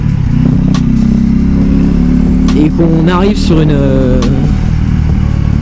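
A Husqvarna Vitpilen 401 café racer motorcycle engine drones loudly and steadily while riding, with pitch rising through a gear pull, under someone talking close to the microphone.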